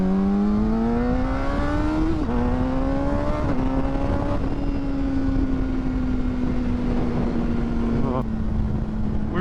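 A motorcycle being ridden gives a close, loud engine drone whose pitch climbs through gear changes and then holds steady at cruising speed, with wind noise running underneath.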